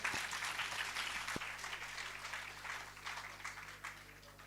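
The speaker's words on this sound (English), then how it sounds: "Guys, give a big round of applause for Tejas." Students at a Punjab Engineering College B.Tech orientation give a round of applause, a faint, distant patter of many hands that slowly thins out over a few seconds.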